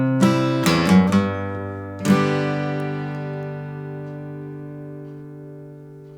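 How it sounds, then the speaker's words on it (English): Acoustic guitar chords brushed downward with the index finger on the treble strings, a few quick strums then one more, left to ring and slowly decay. "another downstroke on the treble strings with your index finger"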